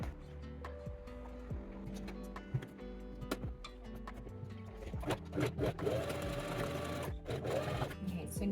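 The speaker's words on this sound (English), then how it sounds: "Now I'll just stitch together the 2 ends of the strap." A sewing machine stitches together the two ends of a fabric strap for a water bottle carrier, running in steady rapid bursts that grow louder and denser toward the end, close and clear.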